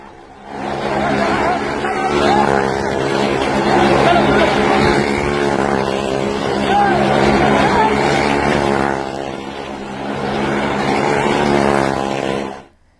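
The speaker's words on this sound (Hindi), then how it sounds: "बाइक चलती रही और काफी देर तक मौत के कुएं में बिना बाइक करके ही ये बाइक घूमती रही" A motorcycle circles riderless around a well-of-death stunt arena, its engine a steady, droning whine that holds for about twelve seconds, with voices faintly underneath.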